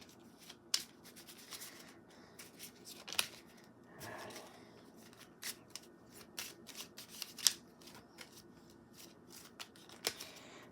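Playing cards are shuffled by hand in soft, close bursts of riffling and tapping, spaced irregularly over a quiet background.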